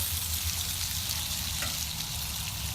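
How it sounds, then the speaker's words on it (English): Bacon frying in a pan gives off a constant, close crackling sizzle, an even hiss with no voices over it. "We still have some more bacon we need to cook."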